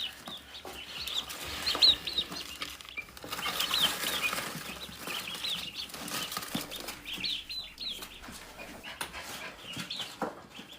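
A duck and a turkey in a yard flap their wings and cluck in a busy, scuffling jumble, with bursts of flapping and fowl calls throughout and no talk.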